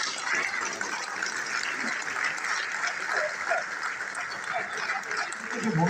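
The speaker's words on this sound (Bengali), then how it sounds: "চক্রবর্তী মহাশয়কে একটু জোরে করতালি দিয়ে আমরা স্বাগত জানাই।" Theatre hall audience at a festival clapping steadily, a dense, even wash of applause throughout with some voices mixed in.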